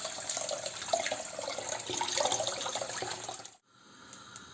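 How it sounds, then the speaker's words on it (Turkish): Washed rice is drained of its water in a kitchen, a close, continuous splashing trickle that stops abruptly near the end, leaving near silence. "pirincimi tamamen süzdürüyorum"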